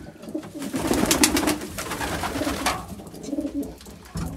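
Pigeons kept by a hobby breeder coo softly in a loft, a few overlapping throaty calls repeating close by with faint rustling and no talking.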